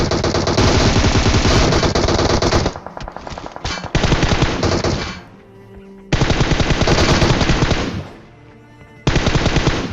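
Sustained automatic gunfire in a PUBG battle around Pochinki, with long dense bursts broken by brief pauses where echoes and softer shots trail off, then loud firing resumes.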